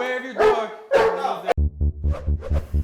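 A guard dog barks loudly and close by, two heavy barks followed by a quicker run of shorter, deeper barks in a steady rhythm.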